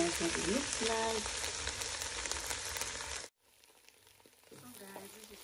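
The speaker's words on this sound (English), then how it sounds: "this is our Njama Njama frying up and ready to be taken off the heat" Njama Njama greens, a Cameroonian leafy vegetable, sizzle and crackle steadily in a hot pan, loud and close for about three seconds before dropping to a quieter frying hiss with a voice speaking over it.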